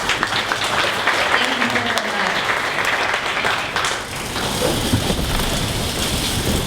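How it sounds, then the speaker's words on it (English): Audience at a 1 Million Cups startup pitch event in Dallas gives a standing round of applause, dense steady clapping filling the room throughout with a faint voice underneath. "please, everyone stand up one last time and give a big round of applause"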